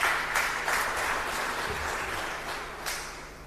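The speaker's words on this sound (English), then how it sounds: "Can we clap hands for them, please?" An audience applauds at the handover ceremony for a television studio, a sustained patter of many hands clapping at moderate volume that slowly fades over a few seconds.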